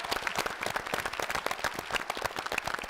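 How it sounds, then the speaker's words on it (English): A round of applause for the winning team at an English quiz competition, individual claps distinct and rhythmic from a modest group, moderately loud and steady with no voices. "So let's give another round of applause."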